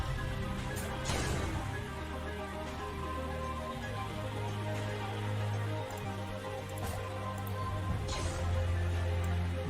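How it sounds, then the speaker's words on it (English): Steady rain falls across an Unreal Engine 4 game level under a cloudless sky, a soft even patter with a few louder splashes, faint and continuous, no voices. "I know I've got a sky without clouds in it, although it's raining anyways."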